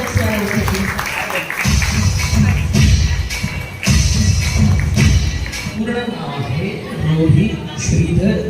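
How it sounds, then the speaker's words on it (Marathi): A crowd at an awards ceremony in Vasai claps steadily for several seconds, the applause swelling and dipping with brief breaks, with some voices and shuffling mixed in. "जोरदार टाळ्या होऊन जाऊ दे"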